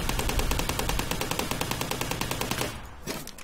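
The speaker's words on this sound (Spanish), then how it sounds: "Tenemos el fusil de asalto." An assault rifle in GTA fires one rapid, sustained automatic burst of evenly spaced shots for nearly three seconds before cutting off, loud and close with a ringing tail.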